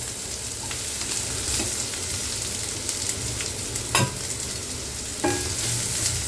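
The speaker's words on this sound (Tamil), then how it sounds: "நெக்ஸ்ட்டு தேங்காய், நல்லா இதை வந்து நல்லா ப்ரௌன் கலரில் வர வரைக்கும் நல்லா நம்ம வந்து இதை வந்து வறுக்கணும்" Grated coconut roasts in a pan over medium heat with a continuous soft sizzle and hiss, broken by a couple of sharp scrapes of a spoon, close and even throughout.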